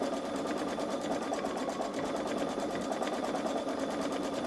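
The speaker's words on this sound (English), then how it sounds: "It's kind of neat looking, even though it's stitching the way it is on this stabilizer" A Babylock Solaris embroidery machine stitches a converted logo design onto stabilizer, giving a fast, steady mechanical needle rhythm at moderate level with no pauses.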